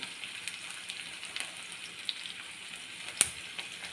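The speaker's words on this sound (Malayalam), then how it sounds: "ഇനി നമുക്ക് ഇതിൻ്റെ അകത്തേക്ക് അരിഞ്ഞ് വെച്ച സവാള നമുക്ക് ഇതിൻ്റെ അകത്തേക്ക് ഇടാം അതിൻ്റെ കൂടെ തന്നെ ഇഞ്ചിയും വെളുത്തുള്ളിയും" Chopped onion, ginger and garlic sauté in a hot pan, giving a steady, close crackling sizzle with small pops and one sharp spatter.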